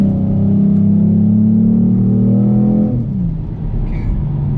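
Ford Mustang V6, naturally aspirated, revving hard under full throttle, a loud rising engine drone from inside the car that climbs steadily for about three seconds before easing off, no talk over it.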